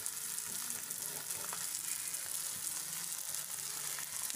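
Hot water poured into a pan of frying fish heads, with a continuous close sizzle and hiss at a fairly even level, no talking.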